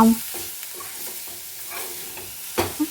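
Vegetable being stirred and fried in a pan: steady close sizzling with a few scraping strokes of a spoon, ending in a couple of louder scrapes.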